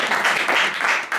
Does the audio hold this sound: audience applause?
yes